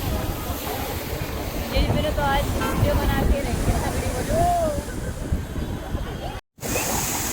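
Ocean waves surge against the seafront at Marine Drive, Mumbai, a continuous rushing roar mixed with gusting wind noise, while someone talks over it close to the microphone.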